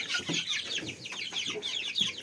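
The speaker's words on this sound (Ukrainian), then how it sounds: "Так, мої кури." Several hens cluck and murmur continuously nearby, soft overlapping calls with no talking.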